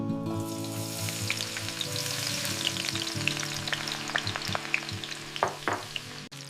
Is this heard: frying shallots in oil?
yes